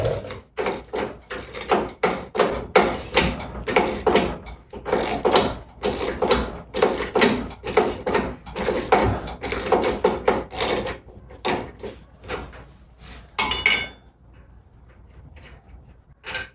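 A hand ratchet loosens the shock absorber bolts on a 1961 VW Beetle, giving bursts of rapid clicking strokes up close, with a few short pauses, before fading to quiet near the end.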